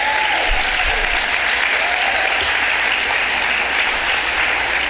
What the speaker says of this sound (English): get you to applaud all of our awardees this evening for all of their work